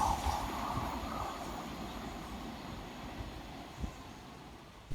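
A Thameslink Class 700 train rushes through a station at speed, a steady broad rumble and rail roar holding throughout with a sharp bump near the end, heard amid stormy wind.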